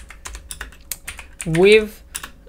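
Python Discord.py bot code being typed on a computer keyboard: irregular, crisp key clicks tap steadily, close and clear. Someone speaks briefly partway through.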